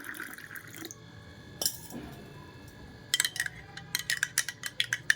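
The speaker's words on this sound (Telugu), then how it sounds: "కొన్ని వాటర్ మిక్స్ చేసుకున్నారనుకోండి" Water is stirred into a summer drink of gond, sabja seeds and lemon in a glass. Close, sharp spoon clinks and liquid swirls come in bursts, with quieter pauses between them.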